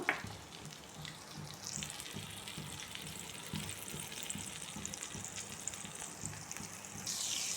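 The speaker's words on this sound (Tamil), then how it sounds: "இதில் நான் எடுத்து வச்ச பட்டர் போட்டுக்கிறேன் இது மெல்ட் ஆகட்டும்" Butter melting in a wok on the stove for a makhana (lotus seed) snack gives a steady, soft sizzle and frying hiss that runs unbroken throughout, with faint clinks near the start.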